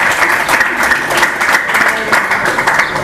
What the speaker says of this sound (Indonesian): Bu Amalia, tepuk tangan buat Amalia ya.